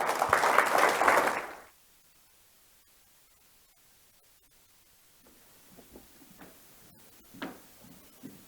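Loud audience applause at a regional development summit, a burst of clapping for roughly a second and a half that cuts off abruptly, followed by quiet room noise and faint shuffling.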